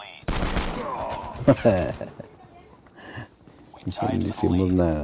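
A shotgun fires in the COD Mobile video game amid other in-game gunfire bursts, loud and close, while someone talks over the shooting.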